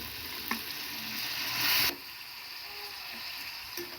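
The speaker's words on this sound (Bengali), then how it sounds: "এই দেখেন ভালো করে নেড়ে ছেড়ে নিচ্ছি।" Onions stirred in a hot pan with a steady sizzle, one loud hissing surge that cuts off sharply, then quieter frying with a few light scrapes; no one speaks.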